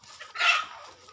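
A poultry hen gives a single short cluck close to the recorder, loud and brief against a quiet farmyard background.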